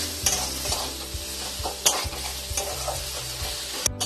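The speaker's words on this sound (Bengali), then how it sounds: "মশলাটা 5 মিনিট ভালো করে কষে নেব" A spice paste for Bengali mutton curry is stirred and fried in a pot, making a sizzle with repeated scraping strokes and a few sharp clanks of the utensil against the pan.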